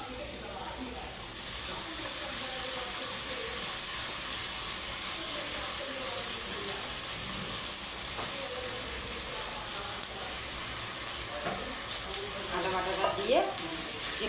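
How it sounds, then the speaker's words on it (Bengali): Garlic paste, followed by ginger paste, fries in hot oil in a pan and is stirred, making a steady, loud sizzling hiss for the whole stretch, with faint scraping and what may be faint talk in the background. "রসুনটা ভালো করে ভেজে নেবো"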